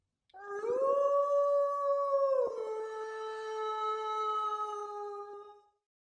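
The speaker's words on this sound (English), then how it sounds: "Dog howls back." Dog howling back into the night, one long sustained mournful howl that drops in pitch partway through and trails off, clear and alone with no voices.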